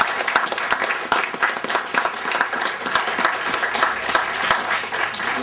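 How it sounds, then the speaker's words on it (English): Wedding guests give the helpers a big round of applause, a lively crowd clapping with distinct sharp hand claps standing out from the steady patter for several seconds. "I think they deserve a big round of applause for their help"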